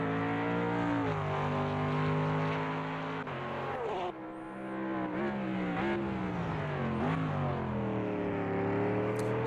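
A Mercedes-AMG GT3 race car in a racing video game, on a street circuit, its engine snarling continuously as it climbs through the gears, each upshift a brief dip in pitch before rising again.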